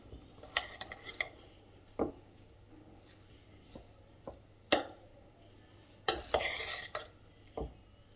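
A spoon stirs tomato rice bath in a metal pot, making close, intermittent scrapes, knocks and clinks with pauses between strokes and no talking.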